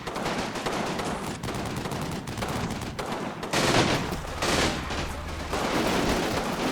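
A medium machine gun fires in the Combat Mission Final Blitzkrieg war game, sustained rattling bursts with other gunfire mixed in, dense and continuous, with a louder burst midway.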